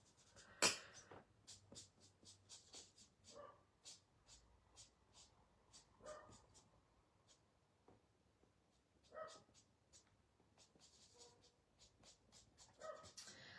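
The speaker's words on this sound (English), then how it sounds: "I'm sorry if you can hear a dog barking." Dogs bark in short, sharp, scattered bursts, faint and somewhat distant inside a home, with light panting and small clinks around them.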